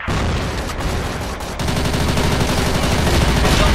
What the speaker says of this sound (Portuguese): Larga a granada aqui, ó.